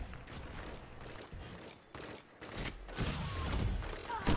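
Rapid gunfire in the shooter game Destiny, a dense fusillade of overlapping shots and thuds rising in intensity, fairly quiet overall with a voice occasionally speaking underneath.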